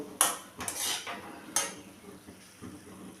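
Utensils clink and scrape against a plate while potol chingri bharta, a mashed pointed gourd and prawn dish, is served, with a few sharp metallic taps over soft scraping, close and without talk.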